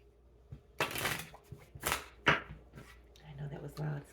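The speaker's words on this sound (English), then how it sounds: "This deck has not been shuffled often." A Legends Tarot card deck is shuffled in several loud, crisp riffling bursts close by, with a voice speaking softly near the end.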